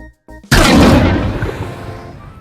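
A cruise missile strike lands as one sudden heavy boom that erupts loud and close, then rolls off into a long fading rumble, with a brief faint sound just before it.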